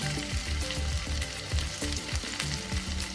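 Ginger and green chilli fry in a little oil in a pan, a bright continuous sizzle broken by rhythmic scraping stirs every half second or so, close and with no talk.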